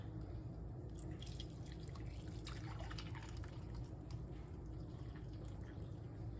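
Coffee pouring and dripping close by into a mug with chocolate sauce, a steady wet trickle with small splashes, no voices.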